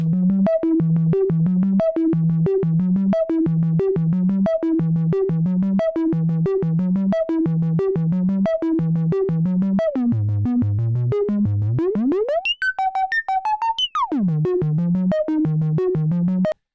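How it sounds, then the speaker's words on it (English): A buzzy triangle-wave tone from a discrete VCO plays a fast repeating note sequence, briefly swooping down and then sweeping up to a high pitch before the pattern resumes. "if we crossfade that over to the triangle wave"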